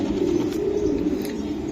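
Racing pigeons coo softly on a farm, a low, steady burbling murmur of several birds close by, running without pause and with no talk over it.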